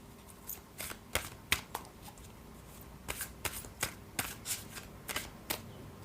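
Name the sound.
handling tarot cards, taking a card from the deck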